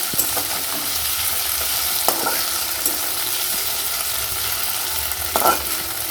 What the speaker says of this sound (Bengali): দিয়ে দিলাম মেখে রাখা ঢ্যাঁড়স। এবার মিডিয়াম ফ্লেমে রেখে ভেজে নেব।